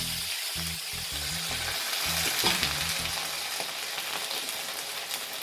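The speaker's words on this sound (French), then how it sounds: "Et j'ajoute 500 ml d'eau pour 250 g de riz." Water poured into a pan of rice already coated in hot oil, with 500 ml of water for 250 g of rice in a vegan meal prep. It gives a loud, even hiss and bubbling that stays steady throughout, with a few low knocks early on and no speech.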